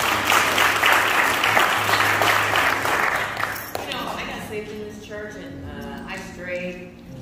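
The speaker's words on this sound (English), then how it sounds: "Let's clap our hands for our sister." Church congregation clapping hands for a sister in a worship service, loud dense applause for the first few seconds that thins out as voices and singing take over.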